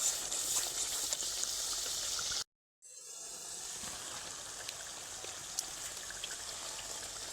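Fried shrimp and pointed gourd drop into cooking masala in a pan, giving a steady bubbling sizzle with a brief silent gap before the frying hiss resumes and continues evenly.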